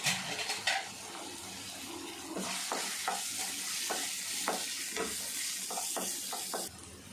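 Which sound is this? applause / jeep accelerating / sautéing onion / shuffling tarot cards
sautéing onion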